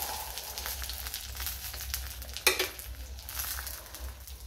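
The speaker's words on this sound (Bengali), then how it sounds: "আর এখানে আমি আমার জন্য একটু মাছ ভেজে নিচ্ছি।" Fish frying in a pan at home, a steady crackling sizzle throughout with one sharp clatter of utensil or oil spatter midway; no voices.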